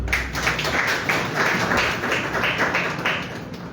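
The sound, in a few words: audience clapping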